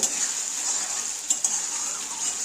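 Spice paste being cooked down in hot oil, with a steady bright sizzle and occasional soft scrapes of a spoon stirring through the pan.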